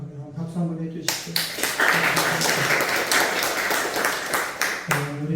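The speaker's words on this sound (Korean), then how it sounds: "박수 한번 해주시죠." A Korean church congregation at a Sunday service claps to welcome a deacon and his wife. A burst of sustained applause of about four seconds sits between a man's speech before and after it.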